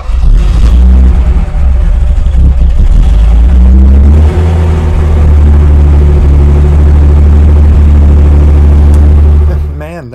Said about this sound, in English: And now I can start the car.